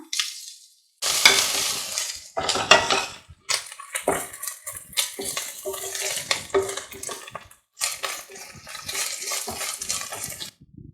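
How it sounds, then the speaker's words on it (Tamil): Loud bursts of sizzling as ginger garlic paste and green chilies are added to hot oil, with spatula scraping and stirring against the pan in uneven spurts. "இப்போ நம்ம இஞ்சி பூண்டு பேஸ்ட்டு சேர்த்துக்கலாம்"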